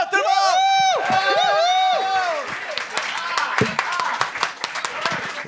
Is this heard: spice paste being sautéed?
no